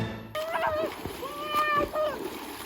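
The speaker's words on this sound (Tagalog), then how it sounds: "Ninduta sa tubig." A splash as someone jumps into cold water, followed by rippling water sounds, with voices calling and talking throughout.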